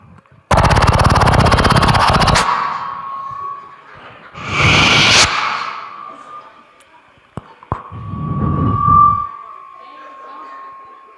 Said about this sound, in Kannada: ಈ ಅದ್ಭುತವಾದ ಧ್ವನಿಯನ್ನು ನಿಮಗೆ ತರ್ತಾ ಇದ್ದೀನಿ, ಡ್ರಮ್ಸ್ ವಾದ್ಯಗಳನ್ನು